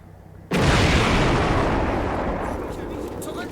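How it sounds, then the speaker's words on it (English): Heavy gunfire and tank shots in the war game Combat Mission Red Thunder: one sudden, loud boom that rolls out into a long, slowly fading rumble. "Yeah, now they're shooting back."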